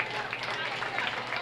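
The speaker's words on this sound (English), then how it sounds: "Let's give them all a round of applause." Audience applause at a county fair swine show after a class of market barrows, steady broadband clapping from a crowd filling the whole moment, with a busy murmur of voices mixed in.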